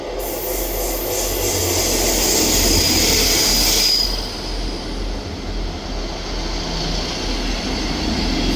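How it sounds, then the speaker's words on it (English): A ScotRail Class 158 diesel multiple unit pulls out of Leven on its service to Edinburgh Waverley, loud and close at first with a steady engine and wheel roar, then easing into a lower rumble as it draws away. "Departing out now is the 1640. This is the 1644 ScotRail service from Leven to Edinburgh Waverley"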